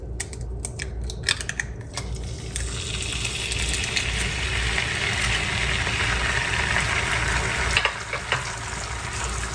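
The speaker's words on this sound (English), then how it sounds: "And immediately after I put it in, I start basting it." An egg fries and is basted in brown butter in a pan, giving a loud, steady, crackling sizzle throughout, with a few sharp spoon clicks near the start.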